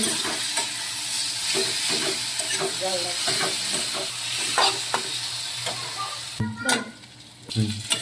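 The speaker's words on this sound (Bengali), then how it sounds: "এবার আমি এইগুলোকে ভালো করে ভেজে নেব" Steady sizzling of pointed gourd (potol) frying in oil with intermittent stirring scrapes, close up, a couple of louder clatters near the end.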